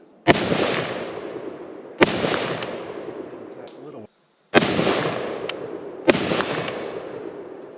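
Four loud gunshots from an IWI ACE 5.56 pistol fired with a muzzle device, each sharp crack followed by a long ringing decay, spaced about two seconds apart with a brief silent gap before the third.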